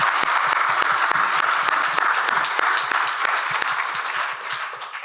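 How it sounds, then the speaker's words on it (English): Audience applause at a fire and rescue senior leaders panel event, a dense, steady burst of many hands clapping, loud and close, fading slightly toward the end. "give them a big round of applause in the first instance"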